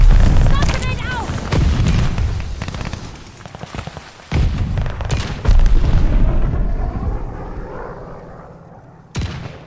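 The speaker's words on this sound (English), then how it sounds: "Stun grenade out." A stun grenade and other blasts in the Call of Duty Vanguard game during team deathmatch, with loud booming bursts and rattling gunfire, plus in-game voices talking over the din.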